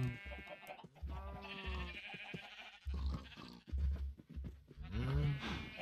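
Several Minecraft cows moo in short repeated calls, close and fairly loud, overlapping one another in quick succession.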